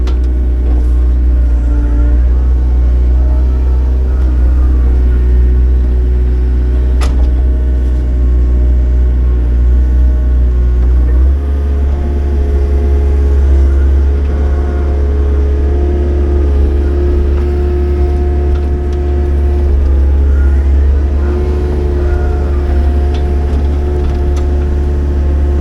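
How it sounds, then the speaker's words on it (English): Diesel engine of a skid steer loader idling steadily at a foundation backfill site, a loud continuous low rumble that shifts to a slightly different pitch partway through, with no talking. "I was planning on taking this out of here and using the skid steer"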